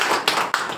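A church congregation claps in praise to God, a loud crowd of hands beating in an even rhythm with about three accented beats in under a second.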